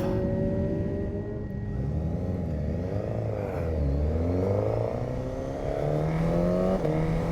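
Suzuki GSX-S1000 motorcycle engine on a racetrack, loud and close, rising and falling steadily through the gears with continuous revving and quick shifts, no voices.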